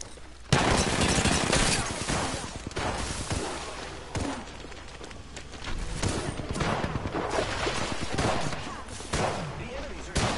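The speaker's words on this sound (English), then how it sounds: "The enemies are firing." Enemy gunfire in an Apex Legends match crackles in loud, sustained automatic bursts with sharp individual shots, filling the whole stretch with barely a break, and a voice may come through faintly underneath.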